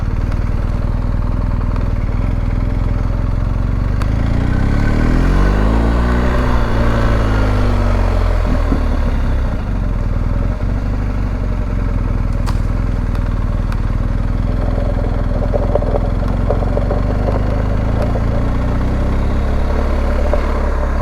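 A 2022 BMW R1250GS Adventure motorcycle rides across grass on a football field, its engine droning loud and close, with one rev that climbs and falls midway before it settles back to a steady run.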